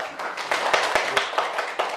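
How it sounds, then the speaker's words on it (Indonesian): Hands clap in a classroom in a quick, uneven patter of distinct claps, moderately loud and close, with no voices over them. "Tepuk tangan dulu buat teman kita"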